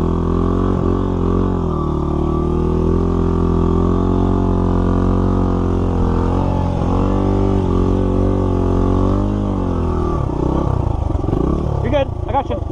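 A dirt motorcycle in first gear climbs a desert trail at Stoddard Wells near Bell Mountain, its engine droning loudly and steadily with shifting pitch and rough clatter near the end, while people talk over it.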